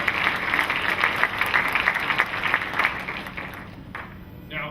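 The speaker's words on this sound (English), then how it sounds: "but please give a round of applause to Barbara Sutton." Audience applause for award winner Barbara Sutton at a school district staff and student awards event, steady clapping from a crowd in a hall that fades out near the end.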